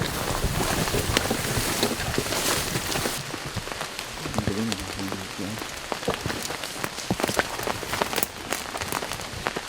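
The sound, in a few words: rain shower falling in the woods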